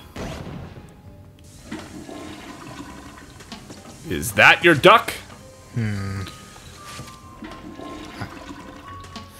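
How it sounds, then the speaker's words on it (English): A toilet in Luigi's Mansion 3 flushes with a loud, rushing swirl of water that peaks briefly and then drains away, while people talk over the game sounds. "Flush the toilet."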